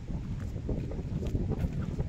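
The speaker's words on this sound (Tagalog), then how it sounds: "napakalakas ang hangin." Strong wind from a typhoon buffeting the microphone in a continuous low roar with gusty swells, no voices.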